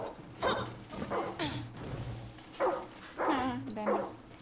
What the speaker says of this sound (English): The dog is barking at Bambi.